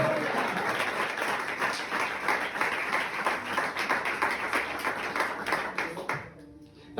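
A church congregation claps through a sermon, sustained applause with a steady patter that runs for several seconds before cutting off abruptly near the end.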